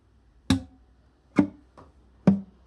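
Three sharp percussive acoustic guitar hits about a second apart, a thumb click then two dead notes, each a quick muted thump with a short ring, isolated in a quiet room.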